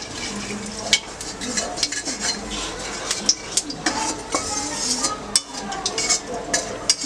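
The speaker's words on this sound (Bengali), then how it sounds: "মাছের তেলের মধ্যেই আমি দিয়ে দিলাম একটা তেজপাতা, আর দিয়ে দিলাম একটু জিরে ফোড়নে" Bay leaf and cumin seeds tempering in hot fish oil in a pan for a simple home-cooked fish curry, with loud clattering of a metal utensil against the pan and a faint sizzle underneath.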